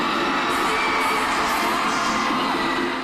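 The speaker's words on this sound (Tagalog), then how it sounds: "drawing loud cheers from the crowd" A crowd at a live show cheering loudly for a performer's stage entrance, a dense, continuous roar of voices and whoops that stays level throughout.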